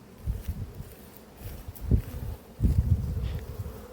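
Agitated honeybees buzz at an apiary hive with drones flying in and out, a close, uneven hum that swells in loudness toward the end.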